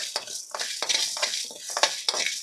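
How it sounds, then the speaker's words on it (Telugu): Cumin seeds and whole spices for a chicken pickle are lightly dry-fried in a pan, heard as quiet repeated stirring scrapes and rattles of seeds against metal with a faint sizzle beneath. "1/2 టేబుల్ స్పూన్ జీలకర్రను కూడా వేసుకొని అన్నిటినీ లైట్గా ఫ్రై చేసుకోవాలి"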